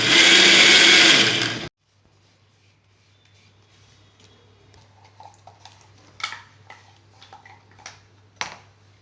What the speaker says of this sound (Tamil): ரொம்ப மைய அரைக்க வேண்டாம்.